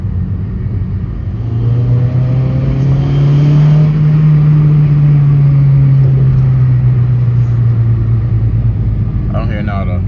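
A repaired Honda Civic, back on the ground after a fix, drives off with a steady low engine rumble that swells as it gets rolling and holds even, close up.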